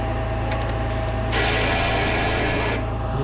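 A ratchet snugs down exhaust manifold bolts on a 2013 Silverado, giving a close, steady rasping burst of clicks and metal rubbing with a low hum underneath and no talk.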